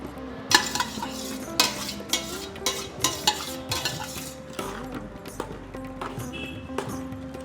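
Cooked vegetables and lentils go into boiling bisibelebath in a pot, followed by repeated scraping and clacking of a spoon stirring, close and rhythmic over a low bubbling background.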